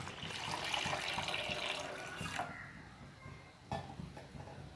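Water pours and splashes steadily into a pot of wheat payasam, thins out, then a short splash follows.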